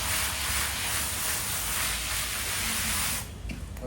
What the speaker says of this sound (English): Power wash, rinse. Power wash, rinse.